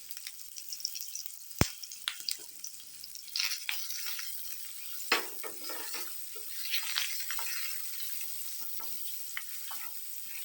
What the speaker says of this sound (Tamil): வெங்காயம் மட்டும் ஒரு நிமிஷம் வதங்கிருக்கோம்.